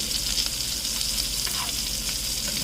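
Salmon skin sears in butter in a pan, a steady, close sizzle of frying that carries on without a break and with no voices over it.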